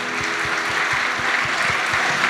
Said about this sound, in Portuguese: Uma salva de palmas para os catequistas.